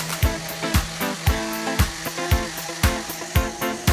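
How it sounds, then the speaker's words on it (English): A power sander works the sides of a red oak cabinet case at 150 grit, making a steady buzzing drone with regular rhythmic pulses as it is pushed back and forth, close and loud with no talking. "I sand the two sides of the case up to 150 grit."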